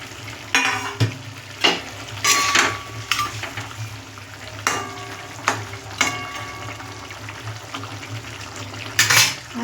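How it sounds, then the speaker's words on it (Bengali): Tengra fish are added to a boiling, lightly spiced curry with repeated clinks and knocks of a utensil against the pot over a steady bubbling sizzle, close and moderately loud. "বন্ধুরা ঝোল ফুটে গেছে, এবার আমরা মাছটা আস্তে আস্তে দিয়ে দেবো"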